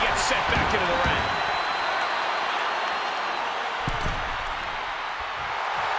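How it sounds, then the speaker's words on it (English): An arena crowd roars continuously in the wrestling video game WWE 2K23, a dense loud wash of cheering with scattered impact thuds and a voice talking over it. "The sound of this crowd is deafening, and he's asking for more."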